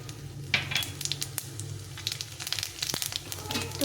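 Cumin seeds fry in mustard oil with dried chili and bay leaf, giving a light, fizzy sizzle with scattered crackles and pops at close range and a quieter hiss underneath.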